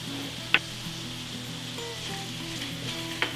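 Shrimp sizzling in a pan with garlic paste and red pepper paste for garlic butter shrimp, a steady close frying hiss throughout, with two sharp clinks or pops standing out, no talk.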